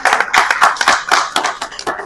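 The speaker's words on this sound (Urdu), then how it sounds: "ان کے لیے تالیاں بجائیں" Dense applause from a crowd of lawyers in a bar room during a Quetta bar association election gathering, steady close clapping with uneven rhythmic bursts throughout.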